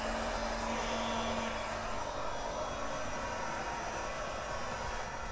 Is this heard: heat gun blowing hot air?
yes